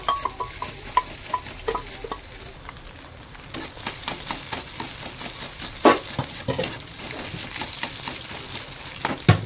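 A spoon scrapes and knocks steadily in a pot while potatoes and chicken are stirred and mashed for a chicken dalma, giving close, rhythmic metallic clacks over a low sizzle, with no speech.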